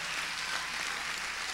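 A church congregation applauds during a Spanish-language service, the clapping forming a steady, fairly faint wash of sound with no voices over it.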